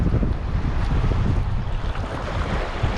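Waves and moving water along a rocky fishing shore during rough, stormy weather: a dense, constant wash of surf with gusty wind noise buffeting the microphone, with no voices.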